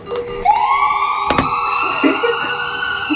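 An ambulance siren plays loudly through a speaker, sweeping up into a steady wailing tone that holds for several seconds. A sharp click cuts through midway.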